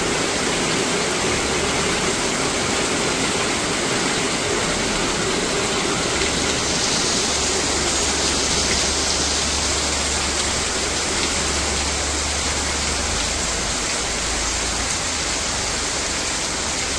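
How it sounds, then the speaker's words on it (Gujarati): Heavy monsoon rain pours down steadily near a river in Gujarat, a dense, unbroken hiss of falling water filling the whole scene at constant loudness without pauses. "કેવો વરસાદ પડે છે જુઓ."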